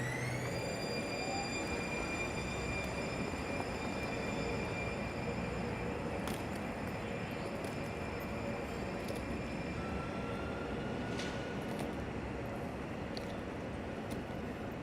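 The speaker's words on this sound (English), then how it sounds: "They sound almost exactly like the same as the San Francisco light rail" A San Diego light rail train pulls away on a summer evening, a steady broad rumble with faint high whines and tonal hums, sustained and moderately distant throughout.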